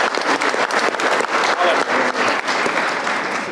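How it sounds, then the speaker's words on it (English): An audience applauds a person who has just come up to take a turn at a Q&A session, steady dense clapping filling the room throughout with no break. "Give him a round of applause for getting up there"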